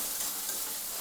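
Ginger paste sautéing in a pan, a brief, fairly quiet, even hiss of sizzling oil lasting about a second with no talk.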